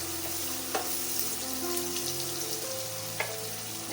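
Cumin and chopped onions frying in a pan, a close, continuous sizzle with a few sharp clinks of stirring scattered through it.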